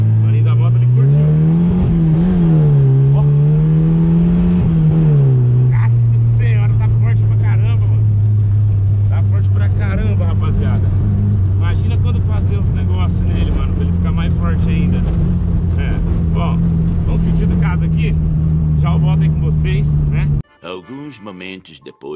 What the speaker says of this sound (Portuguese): Ó, acelera o trem, já vem daquele jeito, vem com gosto